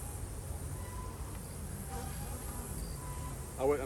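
Honeybees buzzing at a hive during late-season goldenrod flow, a steady low drone with faint scattered insect whines and a brief closer buzz near the end.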